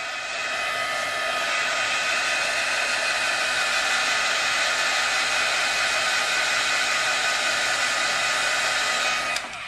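A hair dryer blows steadily on spray-painted Prima paper flowers, making a loud, constant whooshing hum close to the listener that lasts nearly the whole time and cuts off at the end.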